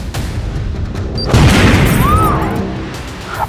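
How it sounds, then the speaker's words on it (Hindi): A bomb blast in a tractor, staged as a TV crime-drama effect, hits as a heavy booming roar partway through and rolls on loudly with a whooshing tail to the end. "ट्रैक्टर में ब्लास्ट"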